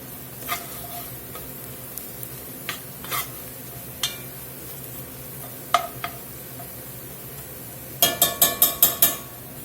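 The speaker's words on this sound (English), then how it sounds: "I'm going to let that cook there in them onions a few minutes, get that raw flour edge off." Onions with flour and sugar cooking in a pot for a Southern-style beef and mushroom onion soup, a soft low sizzle under sparse spoon clicks, ending in a quick run of five sharp metallic taps against the pot rim.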